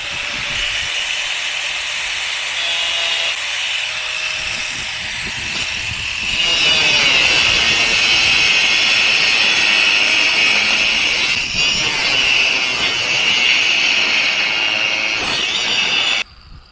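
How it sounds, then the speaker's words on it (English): An angle grinder cuts off the arm of a Liftmaster LA500 gate operator, a loud, sustained high-pitched hiss that rises in intensity partway through and runs nearly unbroken until it cuts out at the end. "Now I need to get out the grinder and cut that arm off."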